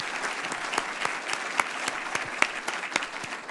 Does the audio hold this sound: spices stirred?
no